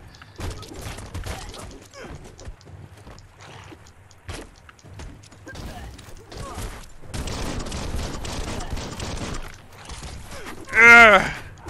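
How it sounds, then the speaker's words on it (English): Scattered weapon shots and clattering impacts from the action game Biomutant come in uneven bursts, building to a denser barrage midway and ending in a loud burst, with background game noise throughout. "Could you stop with the guns?"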